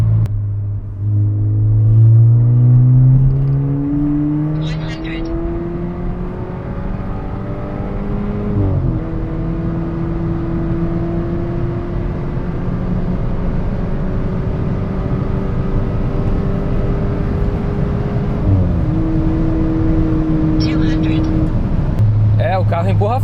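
A VW Polo GTS stage 3 with a full stainless exhaust pulls hard through the gears, the engine note climbing steadily in long runs with brief drops at each shift, loud and close from inside the car.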